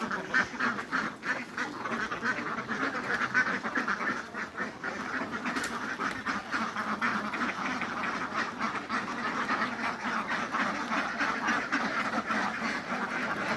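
Dense, nonstop quacking from a large group of ducks at a duck farm fills the air, loud and close, with calls overlapping in an unbroken stream.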